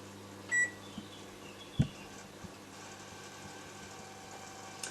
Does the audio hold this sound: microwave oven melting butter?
yes